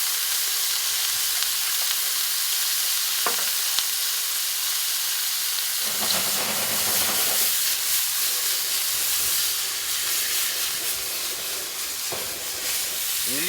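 Halibut with capers and a splash of water steams and sizzles loudly in a hot pan, a dense continuous hiss that swells for a few seconds after the water goes in, then settles into steady frying.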